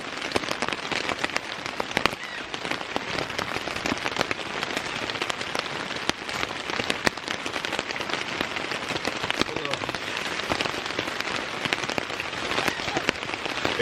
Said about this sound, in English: this is about the heaviest rain I've had since I've been here